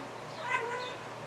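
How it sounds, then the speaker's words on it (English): A cat gives a single drawn-out whining meow, close to the microphone and moderately loud, rising and falling over about a second against quiet room noise. "My cat's whining."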